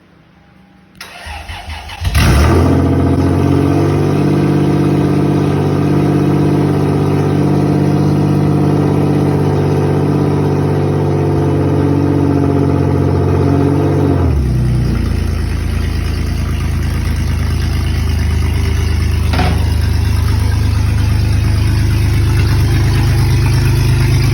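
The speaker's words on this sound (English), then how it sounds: "We're driving the 4runner." A third-generation Toyota 4Runner's engine cranks and starts, settling into a loud, steady idle close by, then its tone shifts and drops to a lower, rumbling hum as the truck runs, no talking.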